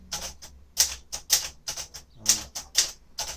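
Typing on a 1957 Royal Aristocrat typewriter: loud, close, irregular bursts of sharp key strikes with brief pauses between, no talking.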